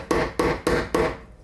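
Four sharp, evenly spaced hammer taps drive a Phillips-head screwdriver into a screw head, each strike a close metallic knock with brief ringing, loud and alone.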